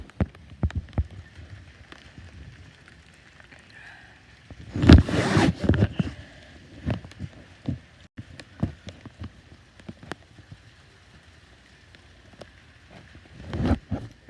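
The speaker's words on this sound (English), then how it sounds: "the sun's out, it's raining" Rain falls steadily while the sun is out, a soft continuous patter on surfaces with scattered close drips and a louder burst of drops or splashing midway and again near the end.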